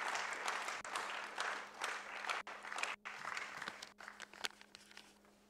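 Audience at a logistics and transport association launch in Tanzania breaks into sustained applause, dense clapping steady throughout with a few brief dips, no talking over it.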